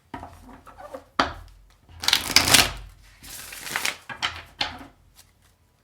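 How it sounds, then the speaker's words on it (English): Gilded Tarot cards being shuffled by hand during a reading: several short, crisp bursts of riffling and flicking card sounds separated by brief pauses, close and fairly quiet, with no talk. "All right, one more shuffle."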